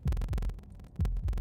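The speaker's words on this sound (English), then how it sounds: "That was the sound of a heartbeat," Heavy, low thumping heartbeat from the video game Slay the Princess, loud and close, beating in paired lub-dub pulses with a pause between, alone with no talk.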